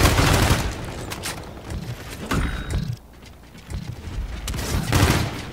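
Rapid bursts of gunfire in the video game Call of Duty Infinite Warfare, loud and close, with scattered shots, impacts and a short lull before the firing resumes.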